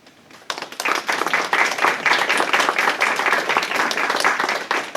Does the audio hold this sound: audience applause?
yes